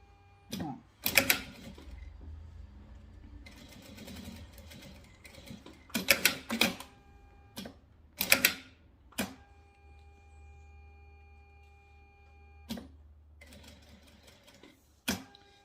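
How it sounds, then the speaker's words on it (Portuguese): Close, faint clicks and clacks come from a sewing machine as the presser foot is lifted while finishing a zippered vaccination-card cover. The sharp knocks are scattered and irregular, with a low hum of the machine in between and no talk. "Esse barulho que dá é quando eu levanto o pezinho da máquina"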